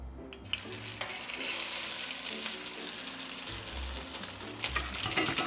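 Churro batter frying in hot oil in a pan, a steady broadband sizzle with stirring and low clunks of the pan throughout.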